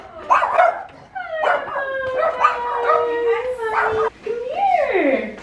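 Several dogs bark and howl close by, yipping in short bursts that stretch into long rising and falling howls, with voices mixed in among them.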